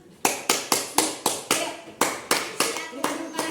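Applause from a classroom of children for a student group, heard as about twelve evenly spaced, sharp group claps in a steady rhythm, close and fairly loud, with no talking over them.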